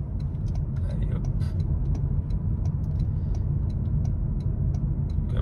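A Toyota Yaris Cross 130 hp engine pulls steadily under acceleration, a continuous low cabin rumble with faint ticks above it, heard from inside the car, the speaker's voice not actually talking during this stretch.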